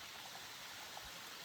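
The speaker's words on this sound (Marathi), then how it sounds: "आता त्यावर पाणी विहिरीत पडतंय" Water from an upper field's sugarcane land channelled down into a farm well, a steady soft rushing trickle, faint and continuous throughout with no voices.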